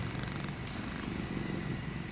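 A cat purring close up, a continuous soft rhythmic rumble that stays steady throughout.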